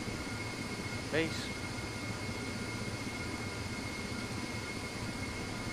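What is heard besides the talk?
Ka-50 Black Shark helicopter flying in DCS flight simulator video game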